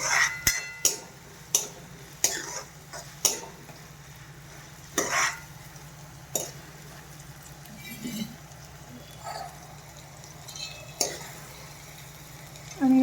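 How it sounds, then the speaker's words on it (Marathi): Chopped capsicum sautés for pav bhaji under a steady low sizzle, with a spatula clicking and scraping against the pan in repeated sharp strikes, close up and loud. "ही पाऊण वाटी ढोबळी मिरची घेतली आहे मी. एक 2 मिनिटं परतून घ्यायची चांगली."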